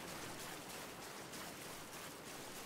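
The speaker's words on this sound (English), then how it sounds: "Ooh, nice waterfall." A waterfall and river in the Ryse: Son of Rome video game: a continuous, even rush of falling and flowing water, soft and steady with no other sounds or voices.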